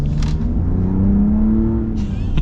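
A 2025 Ram RHO with its high output Hurricane engine accelerates hard, a loud rising engine note climbing in pitch under steady road noise, close and continuous.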